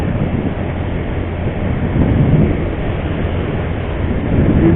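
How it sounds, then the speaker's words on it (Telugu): A Delhi Metro train running heard from inside, a constant loud low rumble and rolling hum without pause or speech. "ఇది మొత్తం ఢిల్లీ మెట్రో అనమాట"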